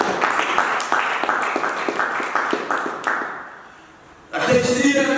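Rhythmic clapping from a church congregation, steady and fairly close, fading out before a voice starts speaking near the end.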